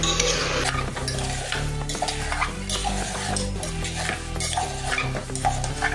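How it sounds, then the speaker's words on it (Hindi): Potatoes and cauliflower are stirred in a pan for pav bhaji, with continuous sizzling, dense scraping and clattering of a spoon against metal, loud and close with no voices. "अभी हम बची हुई है गोभी, अभी ये भी इसमें डाल देंगे। अभी अच्छे से इसको मिक्स कर लेंगे।"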